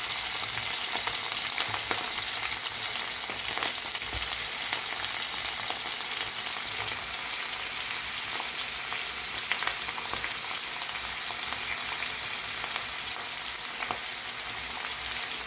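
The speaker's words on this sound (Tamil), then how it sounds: "வெங்காயம் நல்லா வதங்கிடுச்சு" Small onions sautéing in hot oil for a Tamil kovakkai and peanut chutney kuzhambu, a steady close frying hiss with occasional spoon scrapes and crackles throughout, no talking.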